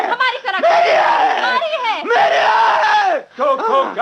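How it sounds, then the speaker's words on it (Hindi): A crowd of people shouting and screaming loudly and continuously, with overlapping raised voices in a staged Hindi theatre scene, breaking off briefly before resuming. "तुम लोग इस कदर चीख क्यों रहे हो?"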